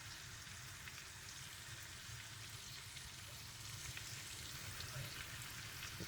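Mushrooms, freshly picked at home, frying in a pan for breakfast, giving a steady, even sizzle with soft crackle throughout and no voices, growing slightly louder near the end.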